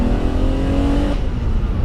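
A 1970s Italian sports car with a dogleg gearbox revs loud and close, its engine note holding steady and then dropping abruptly as it changes down a gear.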